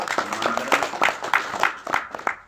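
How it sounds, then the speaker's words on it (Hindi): An audience claps to honor a speaker, a short burst of uneven, moderately loud applause that thins out toward the end. "जोरदार तालियां बजाकर आप उनका सम्मान करें"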